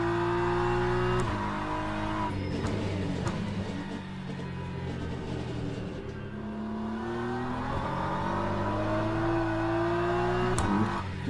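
A hypercar in the racing game Le Mans Ultimate, its engine revving hard with wheel spin, a steady loud whining drone that rises and falls in pitch through gear changes, with no talk.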